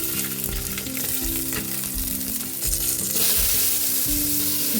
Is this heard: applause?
no